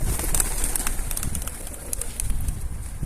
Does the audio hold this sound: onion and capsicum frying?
no